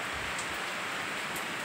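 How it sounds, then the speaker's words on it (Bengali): Heavy pouring rain on a rainy day, a dense, steady hiss of downpour that stays loud and even throughout with no voices. "মুসলধারে বৃষ্টি শুরু হয়ে যাচ্ছে।"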